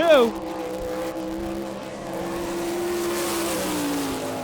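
A sprint car on a qualifying lap at a dirt oval in Rossburg, Ohio, sweeps past with a falling engine pitch, then holds a steady, distant roar under a commentator's voice.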